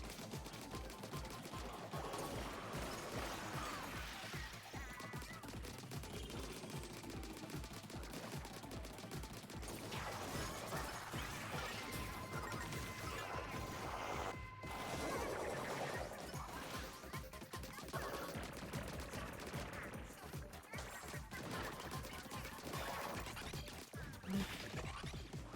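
Continuous frantic weapon fire and splatting blasts from a special weapon in the video game Splatoon 3, a dense unbroken barrage of rapid bursts and impacts lasting the whole stretch, loud and busy with occasional sharper hits.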